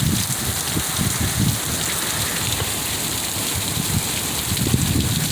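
Heavy summer rainstorm in Utah with thunder and lightning about, a steady dense roar of rain pouring down without pause, close and loud throughout with heavier low rumbling surges near the start and end.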